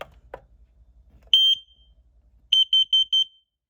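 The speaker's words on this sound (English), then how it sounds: "this will be a loud, high-pitched beep" A carbon monoxide detector under test sounds a loud, high-pitched electronic beep once, then a quick run of four identical beeps after a short pause.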